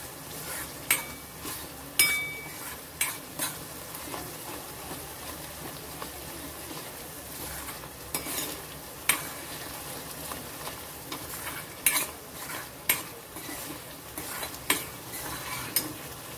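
Dhaba-style garlic spinach paneer gravy bubbles in a pan with oil rising to the surface, a steady sizzling simmer broken by occasional louder knocks and scrapes of a spoon against the pan, close with no talking.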